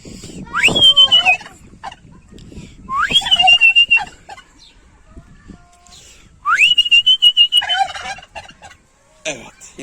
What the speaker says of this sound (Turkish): hindi gördüğünüz zaman böyle yaparsanız hindi size cevap verir.